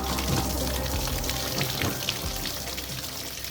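Coolant water drains from a Ford Ka 1.3 TDCi diesel engine, a steady gushing splash and trickle running continuously at close range.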